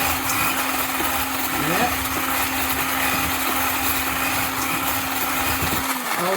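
A blender runs steadily for several seconds, blending apples into a puree, with a sustained mechanical whine that stays loud and constant before cutting off near the end; a voice speaks briefly over it.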